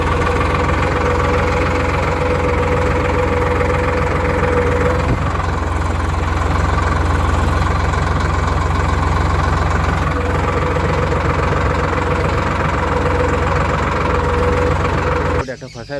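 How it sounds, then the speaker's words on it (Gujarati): A farm tractor sits idling in a field, its steady low engine rumble running continuously and fairly loud, with a brief clatter near the end. "એટલે હવે બીજું ટ્રેક્ટર બોલાવ્યું છે."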